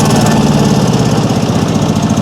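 Engine of a water well drilling rig runs loud and steady throughout, a close, continuous low mechanical drone with rhythmic thumping and no talk over it.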